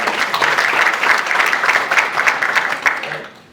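A round of applause from the audience at a youth entrepreneurship challenge event, loud dense clapping from a crowd that holds steady and then tapers off at the end.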